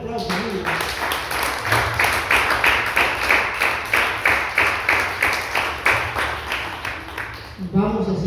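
A church congregation claps in a strong, steady rhythmic beat for several seconds, with a speaker's voice heard briefly at the start and again as the clapping ends.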